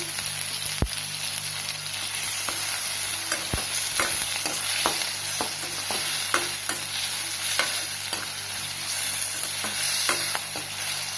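Tomato, onion, green chilli and chana dal with rock salt being stirred and sautéed in a pan, a steady sizzle broken by scraping spoon strokes and occasional sharp knocks.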